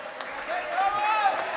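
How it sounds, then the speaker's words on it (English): Crowd at the 2018 Racquetball World Championships men's singles match in San Jose, Costa Rica, cheering and clapping in a short, steady swell of applause, with a commentator talking over it. "you can hear the crowd cheering on"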